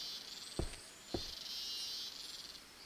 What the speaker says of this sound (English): Some kind of loud cricket in the background.